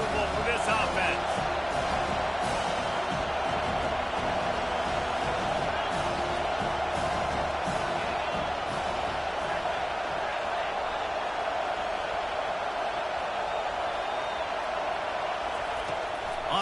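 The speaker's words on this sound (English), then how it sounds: "This crowd trying to make life miserable for this offense." A dense, steady stadium crowd roar fills a college football game in NCAA College Football 25, a constant wash of massed voices with no breaks across the whole stretch.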